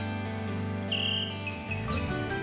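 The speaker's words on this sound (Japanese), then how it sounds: "赤ひげだよ赤ひげ トカラ列島でしか見られない鳥なんだよ" Bright chirping calls of a Ryukyu robin (akahige) in an anime scene, a run of high rising and falling tweets repeating over a steady low hum of background ambience.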